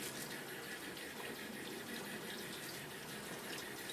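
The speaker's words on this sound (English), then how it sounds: "And so let me rinse that off." A tap runs steadily for about four seconds, rinsing a small tin of Bond Street sandalwood shaving soap, a constant close gushing of water with no voices.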